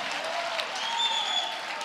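A church congregation claps their hands in worship, a dense steady wash of applause throughout with a voice faintly over it.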